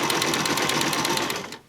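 A sewing machine runs steadily at regular stitch length, a close, loud, continuous mechanical whir with a fast, even stitching rhythm that stops abruptly near the end.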